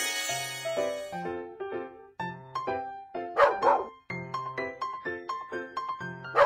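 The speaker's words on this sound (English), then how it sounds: "Puppy." A cartoon puppy yips and barks in the Little Panda School Bus children's game, with short bursts mixed into a cheerful, steady music loop.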